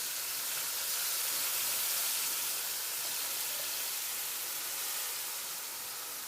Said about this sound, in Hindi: ये इसी ऑयल में बहुत अच्छे से फ्राई हो जाते हैं